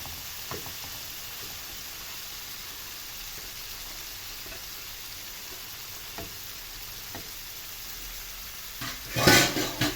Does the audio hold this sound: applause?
no